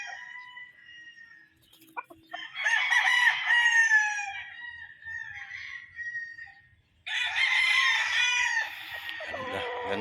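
Gamecocks of Gull and Butcher Mt. Banahaw bloodlines crow loudly and close, two long drawn-out cock-a-doodle-doo calls with a quieter crow and scattered clucking between them, no talking.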